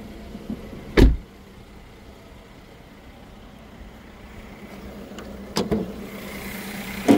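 The electric sunshade under the glass roof of a 2015 Mercedes ML350 runs as a faint, steady motor whir inside the car, bracketed by a few sharp clunks at the start and end.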